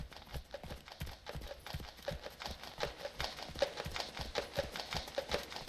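Horse hooves clip-clopping in a steady rhythm, fairly quiet and close, with faint background noise.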